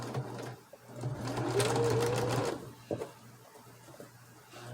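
Sewing machine running a zigzag stitch across an overlapped quilt block, one steady motor run of about two seconds with a rising whir, then stopping, followed by a couple of small clicks.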